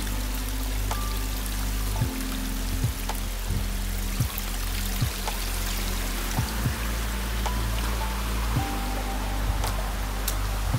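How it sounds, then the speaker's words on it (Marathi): Heavy rain pours down outdoors in a Konkan village, a dense steady rushing wash with occasional heavier spatters, continuous and fairly close, with no talking. "पाऊस आला पाऊस आला पाऊस आला जोरात"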